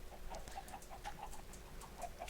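Minecraft chickens cluck in a rapid string of short, high, bird-like notes over a steady low background hum, with no talking.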